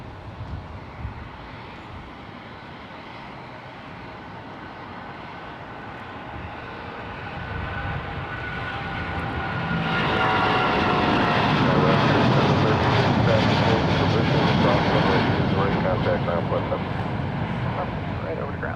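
A Boeing 777 jet takes off from the runway at San Jose Airport, a distant engine roar that builds to a loud, broad sustained rush midway through, with a voice speaking faintly at times.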